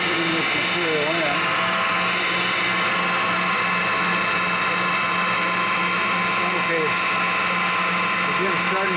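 A press machine processing crumb rubber, with material turning in the inlet hopper, gives a steady mechanical hum and grind with faint wavering whines, continuous throughout at moderate level, while a person talks over it.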